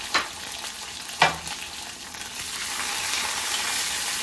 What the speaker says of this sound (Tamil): நமக்கு சின்ன வெங்காயம் பூண்டெல்லாம் நல்லா வதங்கட்டுங்க